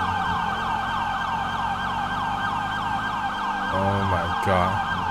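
Police car sirens wail loudly and continuously during a chase in the video game GTA 5, with layered rising and falling tones over engine noise.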